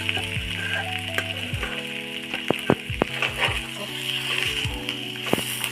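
Potato filling for aloo paratha frying in a pan, with a steady close sizzle and scattered sharp clinks and scrapes of a spatula stirring against the metal, no talking.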